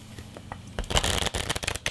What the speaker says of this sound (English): Shuffle in the corners.